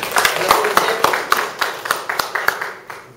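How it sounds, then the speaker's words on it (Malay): An audience at a coffee product presentation at a country resort claps for a guest, with distinct, fairly loud claps in a quick, uneven rhythm over a room murmur, thinning toward the end. "Right, so bagi tepukan kepada Mr. Bobby."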